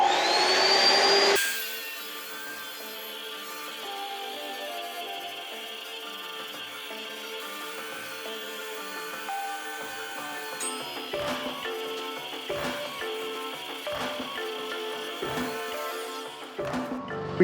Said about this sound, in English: Here we go, time to cut out our curb material.